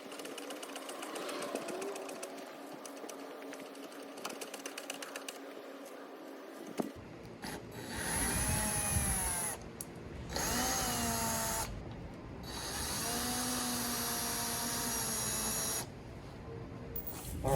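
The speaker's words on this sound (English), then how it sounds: "so I just zipped out all the screws" Cordless power drill backing screws out of a car's front bumper outdoors, with repeated high whining bursts that rise and fall in pitch, separated by brief pauses, close and loud.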